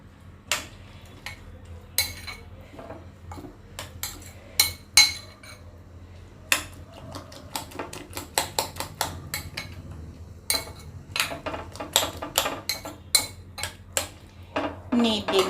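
Salted bread omelette batter beaten with a spoon in a bowl, making a long run of bright, irregular metal-on-bowl clinks and taps that grow busier toward the end.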